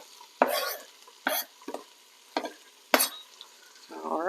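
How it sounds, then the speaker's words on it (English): Onions, peppers and jalapenos hit a hot pan for charro beans, sizzling in several sharp bursts as they are stirred and scraped, with short frying crackles between the pushes and a brief voice at the end. "we're going to go ahead and throw all of our vegetables in here"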